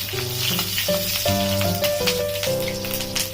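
Green chilies and nigella seeds sizzle steadily in hot mustard oil, a loud, continuous frying crackle, with faint background music underneath.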